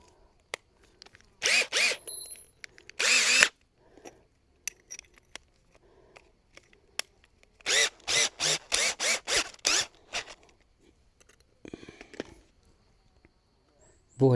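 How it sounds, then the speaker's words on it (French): Power drill boring into a coffee table built from a Michelin 24H Series racing tyre, heard as several loud close bursts of drilling separated by pauses, with a long run of short repeated bursts in the middle and scattered handling noises between. "Bon allez, c'est parti, on va percer ici."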